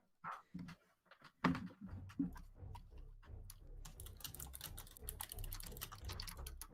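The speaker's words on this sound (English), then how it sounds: "as we hear typing in the background" Computer keyboard typing in a tabletop game livestream: scattered key clicks at first, then a dense, fast run of keystrokes, faint and close, with no talk over it.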